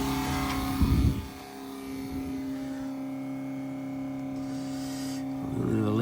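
An old car engine with fireball ignition idles steadily with a constant hum, then revs briefly near the start and again at the end, loud and close.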